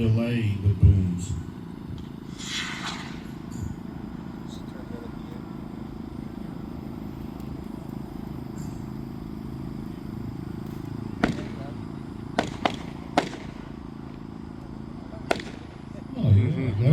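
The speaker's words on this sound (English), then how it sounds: "This last one is red delay with booms." A red delay firework rocket with booms at a Pyrofest builder's showcase: several sharp, distant bangs and cracks ring out in the latter half over a steady outdoor background, with people talking nearby.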